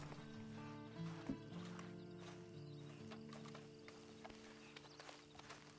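Hooves clip-clop in a video game as a horse moves at an easy pace, faint and quiet under a bed of steady background tones, with a brief soft whinny.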